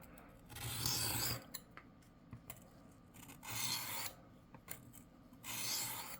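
A knife drawn across a Work Sharp guided field sharpener in a few separate passes, each a short rasping scrape with small clicks between strokes, close up and fairly quiet, with no talk.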